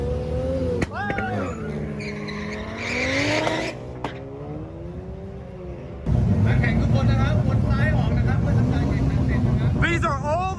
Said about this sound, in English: These are all the cars lining up to drag race.